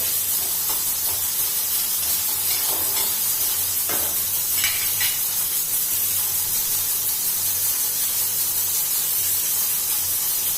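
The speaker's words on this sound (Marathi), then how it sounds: "कांदा पण छान असा कलर परत असा परतवून घ्यायचा आहे तांदूळ कलर आला पाहिजे छान" Onion being sautéed in oil in a pan for Khandeshi-style chana masala, a steady close sizzling hiss with a few brief stirring scrapes, continuous and even with no talking.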